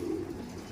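A pigeon gives a single soft, low coo at close range. It is brief and quiet, with no talking and only faint background around it.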